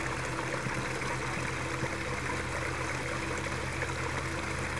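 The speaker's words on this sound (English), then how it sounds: "I don't often see waterfalls in the woods." A small waterfall stream in woodland trickles and splashes steadily, a continuous close wash of running water with no talking.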